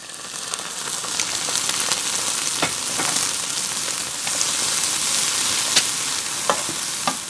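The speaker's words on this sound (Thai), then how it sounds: "จนเราเริ่มเห็นขอบหัวหอมเป็นสีน้ำตาลให้เติมน้ำซุปเนื้อหรือน้ำ เปล่าลงไปนิดนึงค่ะ" Onions frying in a pan for a BBQ beef sandwich give a steady, dense sizzle with scattered crackles and pops, close and continuous throughout, with no talking.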